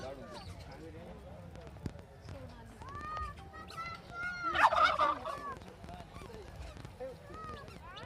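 Ducks and chickens cluck, squawk and gabble in a busy yard, with one louder burst of calls midway, while people talk nearby.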